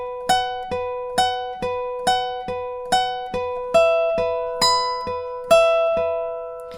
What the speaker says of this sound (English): So that lead riff in total will sound like this.